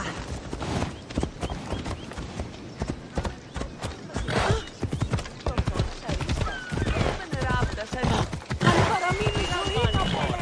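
Horse hooves clip-clop steadily through a busy, dense mix in Assassin's Creed Odyssey, the riding sounds mingled with game effects and a voice talking over them.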